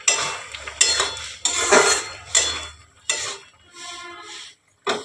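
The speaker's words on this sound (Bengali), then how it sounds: "ঢাকাটা খুলে দিলাম।" A metal lid comes off a pot of vegetarian drumstick curry with mustard, poppy seed, eggplant and potato, giving sharp clanks and scrapes of metal cookware in separated bursts, close up, with a soft simmer between them.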